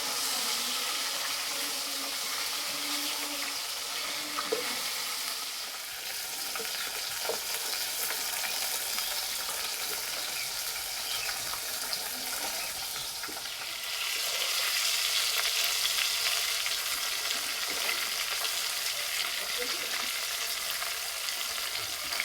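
Fish fries in hot oil in a pan, a continuous dense sizzle, close and steady, swelling louder in the latter part, with no talk.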